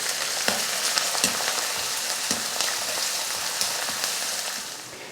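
Two large chopped onions frying in oil with cardamom, cloves and bay leaves for a chickpea kurma give a steady, bright sizzle, with a few sharp ticks and stirring clatters scattered through and a slight easing toward the end.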